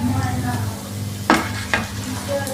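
Chicken BBQ bread pockets frying in hot oil, a close, continuous sizzle broken by two sharp clatters as they are handled.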